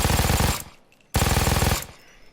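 An MG-42 (Buzzsaw 42) general purpose machine gun firing in Payday 2, two loud, extremely rapid bursts of about half a second each, separated by a short pause with a fading echo.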